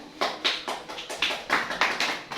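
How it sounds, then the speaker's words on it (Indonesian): A small classroom group claps for group 3 in a rhythmic pattern of about nine distinct, evenly spaced claps, close and moderately quiet. "Tepuk tangan kepada kelompok 3."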